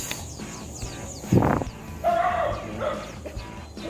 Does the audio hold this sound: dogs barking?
yes